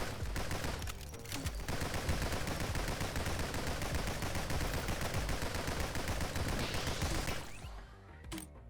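Sustained automatic gunfire from 40-round magazines in the video game Nordic Ashes, a dense, fast, unbroken rattle of shots for about seven seconds that cuts off near the end, leaving a faint tail.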